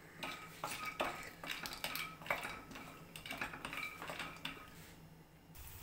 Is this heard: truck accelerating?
no